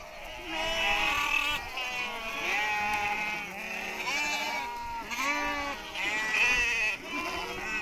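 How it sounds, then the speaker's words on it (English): A crowd of goats gathers around a car in sweltering, dry Kenyan pastureland, bleating loudly and repeatedly with overlapping wavering calls from several animals close by. "The goats can smell the water we are carrying in our car, and soon we are surrounded."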